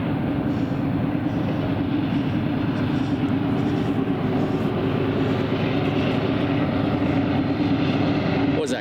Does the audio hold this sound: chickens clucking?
no